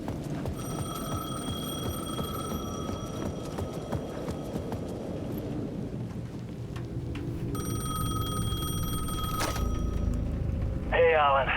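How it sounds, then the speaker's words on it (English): A payphone rings repeatedly at the edge of a plaza in the Alan Wake 2 video game, steady bell trills over a low ambient rumble, with a louder burst near the end. "The payphone at the edge of the plaza was ringing again."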